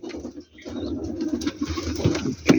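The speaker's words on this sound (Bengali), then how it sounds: "দেখেন ডাকতেছে হুমার কবুতর কিন্তু ভালোই ডাকে" A homer pigeon coos repeatedly at close range in a loft, low soft calls in an uneven rhythm, with other birds and faint rustling around it.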